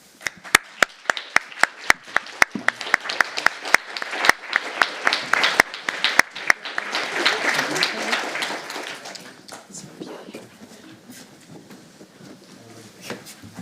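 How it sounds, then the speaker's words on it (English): Audience at a research conference session applauds, starting with sharp scattered claps that swell into fuller applause, then fade into a quieter room murmur by the end. "Round of applause."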